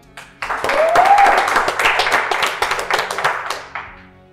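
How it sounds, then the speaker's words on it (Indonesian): An audience at a staged comedy presidential debate claps for the panelists, a burst of loud applause that builds quickly, holds for a few seconds and then tapers off, with a brief whistle-like tone near the start. "Beri tepuk tangan untuk beberapa panelis."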